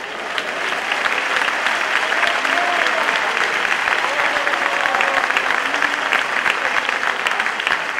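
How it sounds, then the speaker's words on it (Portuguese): Sustained applause from a church congregation during a sermon, a dense, steady wash of clapping hands that holds evenly for about eight seconds without a break. "Jesus, aceita um aplauso do Teu povo."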